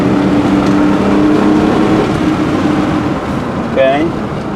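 A misfiring 2001 Chevy Silverado engine roars steadily at wide open throttle on a straight road, a loud continuous drone heard from inside the cab, with someone talking over it.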